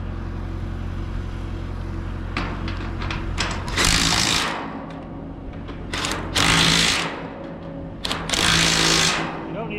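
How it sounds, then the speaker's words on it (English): A pneumatic impact wrench hammers bolts tight on a pre-engineered steel building, firing in three or four loud bursts between quieter stretches of background noise. "If you just hit it with the impact, it'll tighten up."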